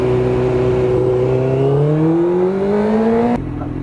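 A car carrying a bike on its roof drives past close by, its engine droning loudly and rising steadily in pitch before cutting off abruptly near the end.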